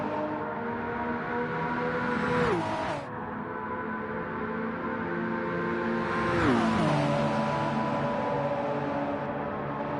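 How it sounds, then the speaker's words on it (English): Race cars from an endurance racing video game run on track, engines droning steadily with rising and falling pitch as cars shift and pass, two clear gear-change drops, loud and continuous throughout. "As we can hear the beautiful noises these cars make"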